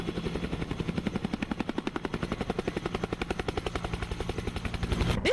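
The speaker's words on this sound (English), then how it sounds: "This roaring light utility helicopter prototype" A light utility helicopter prototype's rotor beats in a fast, steady chop close by, a loud pulsing thrum that holds throughout with no voices.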